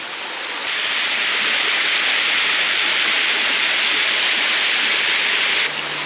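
Dajianshan waterfall in Xizhi, Taiwan, roars with a steady, loud, continuous rush of falling water that holds unbroken for the whole stretch, with no voices.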